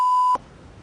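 A single sharp, loud tonal censor beep lasting about a third of a second, cut off abruptly into near silence.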